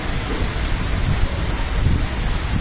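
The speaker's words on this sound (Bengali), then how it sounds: "ধীরে ধীরে রিমঝিম বৃষ্টি পড়ছে।" Gentle rain falls steadily during a spell of heavy weather in Netrokona, a dense, even patter with a low rumbling wash underneath.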